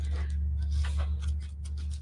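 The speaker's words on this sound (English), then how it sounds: "we're going to cut it a little shorter here" Scissors snip through a paper napkin for a craft decor piece, several quick close crisp cuts in an uneven rhythm over a steady low hum.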